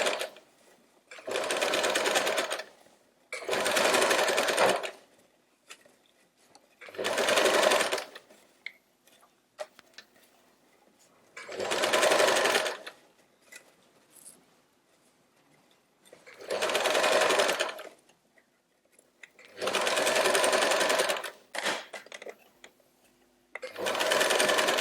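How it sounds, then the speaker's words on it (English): A sewing machine stitches elastic onto a gathered tutu skirt in seven bursts of rapid, even whirring, each lasting about one to two seconds, separated by quiet pauses, close and clear with no talk. "just pull your elastic while you sew"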